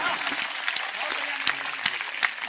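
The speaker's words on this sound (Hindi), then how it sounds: "तालियां जोरदार बजाओ" An audience claps at a Hindi kavi sammelan poetry gathering, a continuous crowd wash with a few sharper claps, while voices carry on over it.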